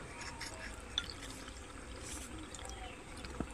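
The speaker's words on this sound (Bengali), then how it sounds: "এবার জল দিয়ে দেবো।" Water poured into a cabbage chop batter of spices and salt in a kitchen, a soft close trickle running on with a couple of faint clinks, with no talking.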